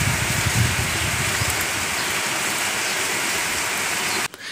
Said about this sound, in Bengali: দেখা যাচ্ছে না এত জোরে বৃষ্টি।